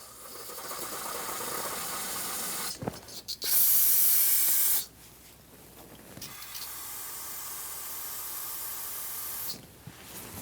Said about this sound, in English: Use brake parts cleaner and clean up the shaft that comes out of the steering box.